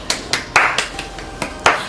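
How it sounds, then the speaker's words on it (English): A few people clap their hands in quick bursts, about eight sharp claps spaced irregularly, close and fairly loud with no talking. "round of applause for you."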